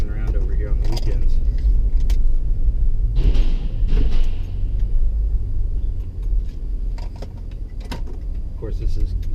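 A car drives through the streets of Umm Ghuwailina on a weekend, with a low interior road rumble throughout and a few sharp knocks and clunks over the top.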